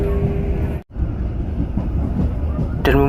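An Indonesian commuter line train rides the rails with a steady close rumble and clatter, broken by a brief drop to near silence, with a tonal chime or announcement at the end.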